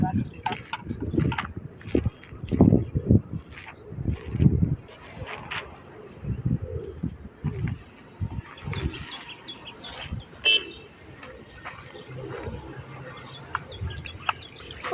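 Soft pigeon calls and cooing come and go amid outdoor bustle as the pigeons are fed grain and water, with people talking nearby and occasional clattering sounds.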